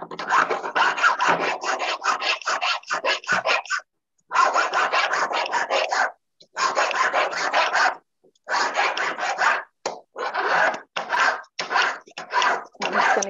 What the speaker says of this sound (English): Using my big toothy file, let's go over the outside of that sprue. Just get that nub off.